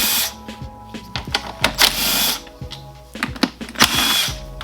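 A power drill spinning off M6 nuts on a Honda XR200R motorcycle, close bursts of whirring with rising and falling pitch as the trigger is squeezed and released, mixed with metallic clatter.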